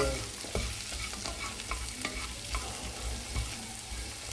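Onion sautéing in a pan for salmon fish manchurian, a low steady sizzle with repeated soft scraping strokes as it is stirred, heard up close with no talking.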